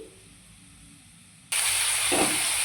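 Black mustard seeds are ground. After a quiet moment, a loud, steady whirring grind starts abruptly and runs on.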